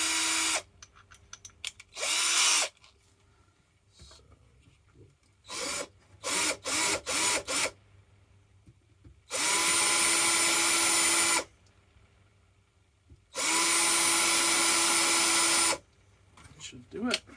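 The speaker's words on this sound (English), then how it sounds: "what I'll do is just going to countersink that a little bit and just drive a screw through." A power drill countersinking and driving a screw through an anime chainsaw prop, with several loud whirring bursts, short stuttering pulses and two long steady runs, between quieter handling noises.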